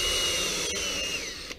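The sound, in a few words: power drill pre-drilling wooden chair slats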